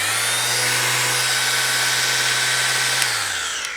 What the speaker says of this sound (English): It's just a little orbital sander.